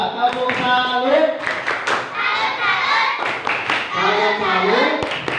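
A class of schoolchildren claps for a classmate during a jigsaw-model lesson, quick rhythmic hand claps and thumps mixed with children's voices and a teacher speaking throughout.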